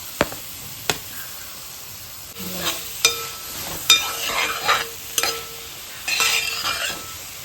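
Tomatoes go into a prawn biryani masala in a pan, with quiet sizzling under repeated sharp clinks and scrapes of a spoon stirring against the vessel.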